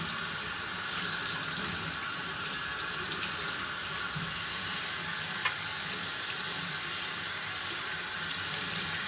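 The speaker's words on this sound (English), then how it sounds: "Now I'm just going to rinse it off here." Running water rinses gunk from the fins of a furnace blower motor, a steady continuous hiss and splash like a faucet over a sink, with no talking.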